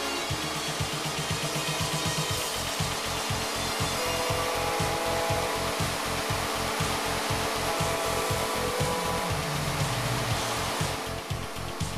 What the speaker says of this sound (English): The milling for this hidden post base plate is another example of the amazing